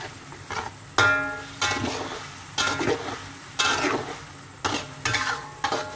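Chicken pieces being fried until crisp for ayam penyet, with loud sizzling bursts and stirring or utensil clatter in a pan, recurring in waves about every second or two, no talk.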